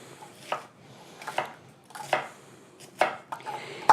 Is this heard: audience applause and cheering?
no